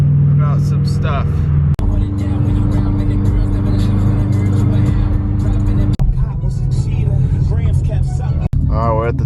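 Loud, continuous car engine and road rumble from inside a moving car, heavy low drone throughout with brief dropouts, while a person talks over it the whole time.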